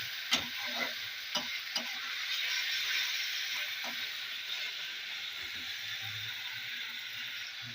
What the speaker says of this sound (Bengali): উপকরণ দেওয়ার পরে আমি ভালো করে নেড়ে কষিয়ে নেবো।